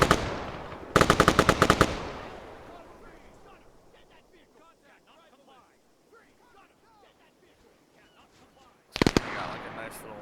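Machine gun fire in a modded military shooter game, two loud sustained bursts about nine seconds apart, separated by quiet stretches of distant scattered shots and faint background noise.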